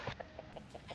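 Chickens standing on a pig at a farm give a steady series of soft, evenly spaced clucks, five or six in under a second, over a noisy outdoor background.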